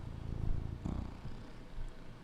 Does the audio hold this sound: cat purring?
yes